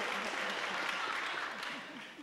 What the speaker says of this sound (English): you don't have to be afraid to applaud